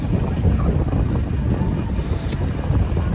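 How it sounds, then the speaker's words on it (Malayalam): A boat ride at Parassini, with strong wind buffeting the microphone and a low engine rumble underneath, loud and continuous. "ബോട്ട് യാത്ര, പറശ്ശിനിയിലെ ബോട്ട് യാത്ര."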